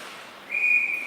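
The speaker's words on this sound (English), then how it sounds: "And there's a whistle." Referee's whistle at an ice hockey game: a single sustained shrill blast starting midway and holding to the end, clear over faint rink ambience.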